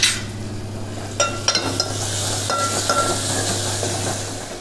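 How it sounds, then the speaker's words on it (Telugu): A spoon stirs green chilli tomato chutney with ghee in a thick-bottomed pot, giving a few scraping clinks and taps over a steady low hum, with no one talking. "కొంచెం నెయ్యి వేసుకొని కలుపుకుందామండి"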